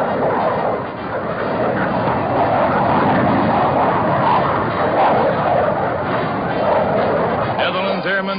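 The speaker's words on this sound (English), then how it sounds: "And then the planes take to the air for the first time flying with Dutch insignia." Thunderstreak jet fighters carrying Dutch insignia take off and fly overhead at a 1955 handover ceremony in the Netherlands, a loud, steady broadband jet roar that fills the whole stretch without a break.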